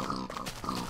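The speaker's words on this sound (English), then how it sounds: "I don't want pigs spawning right now" Pigs in Minecraft letting out short grunting oinks, close and fairly loud, in a brief burst with no talking.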